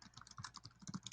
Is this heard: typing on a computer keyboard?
yes